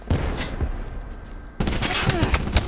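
Gunfire crackles through a Call of Duty Black Ops 4 match: dense distant shots at first, then a sharper, louder volley of rapid bursts close by, with no talking.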